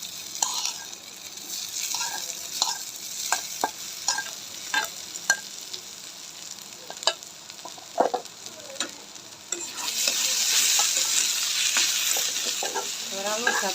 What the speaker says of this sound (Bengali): এবার আলুর সাথে পেঁয়াজগুলা ভালো করে মিশিয়ে নেব